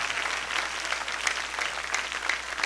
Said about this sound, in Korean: 오늘 우리가 이렇게 박수치며 할렐루야 크게 외친 것